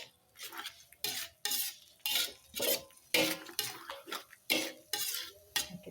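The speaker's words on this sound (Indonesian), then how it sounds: "Oke, kita akan aduk." A utensil scrapes and clatters against a pan in repeated rhythmic strokes while stirring food with mushroom broth, close and clear, with no voices.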